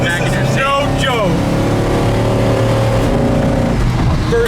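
A 1970 Plymouth Satellite Sport engine pulls hard through first, second and third gears with automatic kickdown, a steady loud roar rising and shifting inside the cabin, with a voice talking over it.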